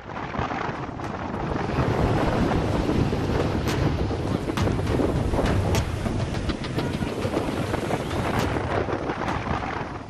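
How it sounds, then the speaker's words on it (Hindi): Cyclone Biparjoy winds roar over the Arabian Sea with crashing waves, a dense and steady rumble that lasts throughout, broken by gusty bursts and heavy wind buffeting against the microphone. "समंदर की लहरों के साथ गुर्राता ये भयावह शोर अरब सागर में उठे इस साल के पहले चक्रवात बिपरजॉय का है"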